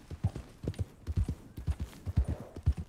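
American paint horse hooves clip-clop in Red Dead Redemption 2, giving a close, steady run of hoofbeats in a walking rhythm with no talk over them.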